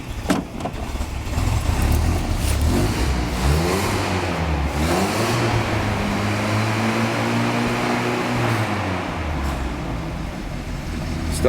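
The engine of a 1967 Land Rover turns over and catches, then revs up and down in several long, rising and falling surges, loud and close, with no talking.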